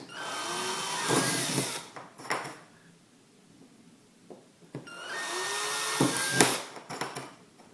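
A power drill boring holes into an aluminium soda can while an alcohol stove is being made, heard as two separate whining bursts of a few seconds each, with quieter handling noises between them.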